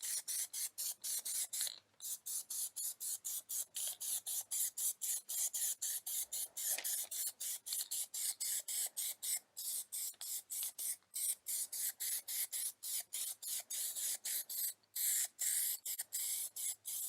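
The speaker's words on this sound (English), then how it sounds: "Now it's time to start spraying the wheel." Aerosol can of Plasti Dip misting a light tack coat onto a car wheel, a steady close hiss broken into many short rapid bursts with brief gaps, no talk.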